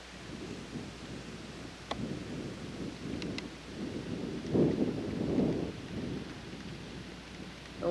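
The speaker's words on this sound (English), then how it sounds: "The wind is blowing quite hard this morning." Hard wind gusts across a garden on a summer morning, a steady low rumble of buffeting that swells and surges in the middle, with a few faint higher chirps above it.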